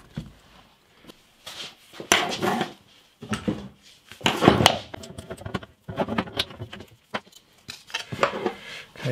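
Wood being trimmed during an acoustic guitar build in a workshop, heard as a series of short, scraping and knocking cuts in irregular bursts with pauses between them, close by and moderately loud.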